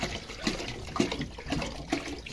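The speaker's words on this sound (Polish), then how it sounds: "Leje się woda." Warm water being poured into a container at an animal-rearing setup, a continuous splashing gush with rhythmic glugging surges, close and loud with no talk.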